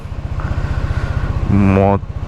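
An Aveta Nova 200 scooter's engine thrums in a low, steady idle throughout with an electronic tone sounding near the end, close by, while someone talks over it.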